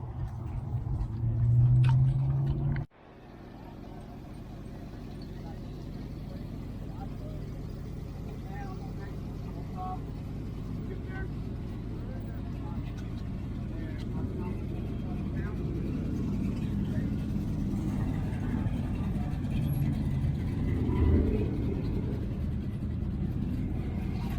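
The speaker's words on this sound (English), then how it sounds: "Just miles of cars trying to still get into this place." Continuous low rumble of vehicle traffic at a hot rod car show in Nashville, many cars queuing to get in, engines droning steadily, swelling slightly toward the end.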